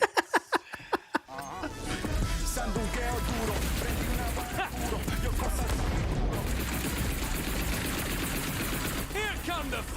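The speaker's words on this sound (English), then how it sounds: "Here come the fireworks." Video game gunfire and explosions in fireworks-like bursts: a few sharp booms, then dense, continuous rapid shots and blasts, loud and close.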